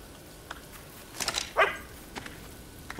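A dog barks briefly in the Xbox 360 game Fable 2, a short burst of two or three close barks over quiet game ambience.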